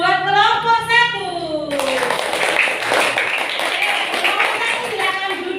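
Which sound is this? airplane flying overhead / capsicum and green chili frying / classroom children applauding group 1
classroom children applauding group 1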